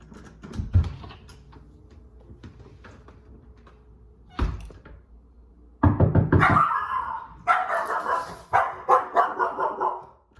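A protective mixed-breed house dog barks loudly in repeated bursts after a knock on the door, with softer thuds and room sounds before the barking starts.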